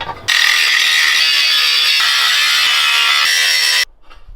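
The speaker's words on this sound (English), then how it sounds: "So I'm gonna grind right around that." A grinder takes metal down to bare around a weld area on a car body, giving one loud, sustained high-pitched whine for about three and a half seconds before it cuts off abruptly.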